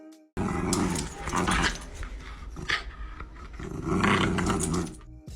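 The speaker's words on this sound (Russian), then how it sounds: "как играют со своим Джек Расселом, запечатлев его рычание, как здесь." A Jack Russell terrier growls loudly and close up during play, rough sustained growls in two long bursts separated by breathy pauses.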